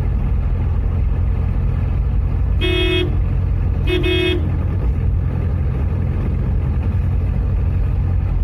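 A car drives along a winding village road with a loud constant engine and road rumble, and two short horn toots sound close together a second apart, with no talk.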